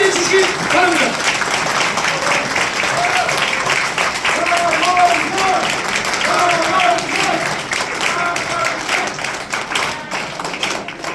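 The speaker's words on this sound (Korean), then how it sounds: "큰 박수로 맞이해 주시기 바랍니다." An audience at a press conference for a Gimcheon mayoral candidacy claps to welcome the candidate, a sustained patter of applause that runs under a voice speaking over a loudspeaker and slowly tapers off.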